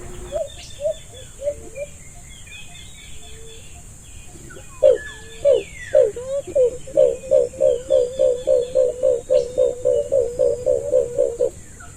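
A bird calls loudly and close by. A few softer calls come first, then a steady run of about sixteen strong, evenly spaced call notes in a fast rhythm.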